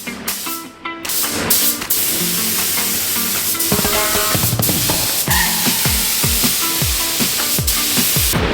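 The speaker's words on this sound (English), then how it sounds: "once the primer was dry, we started laying down the paint, doing a total of 2 coats" Aerosol spray paint hissing in bursts as coats go onto a drift track piece over dry primer, with scattered clatter and handling noises in between and no talk.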